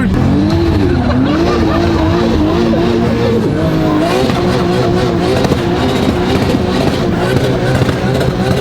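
Tire squeal and engine roar from a 2JZ-swapped BMW E30 spinning out in a racing video game, a loud continuous skid with wavering pitch over steady engine drone, no pauses throughout.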